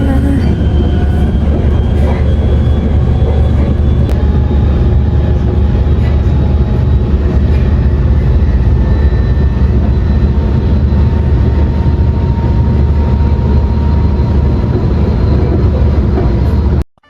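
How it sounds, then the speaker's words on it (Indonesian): Steady, loud rumbling hum of a moving train heard from inside, with constant low roar and faint tonal whines throughout. "sekarang aku udah di kereta"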